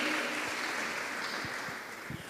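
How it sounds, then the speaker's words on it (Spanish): A church congregation claps together in worship, a dense, steady patter of many hands filling the room at moderate loudness, with a few sharper claps near the end. "Fuerte las palmas al Señor."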